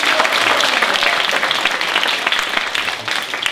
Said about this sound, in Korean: 한 번 더 우리 큰 박수로 경청.